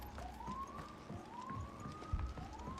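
A faint wailing ambulance siren in Final Fantasy 16 rising and falling in repeated sweeps, heard at a distance over low background noise.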